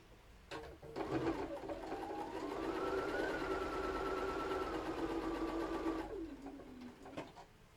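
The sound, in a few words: sewing machine stitching a quilt block along a seam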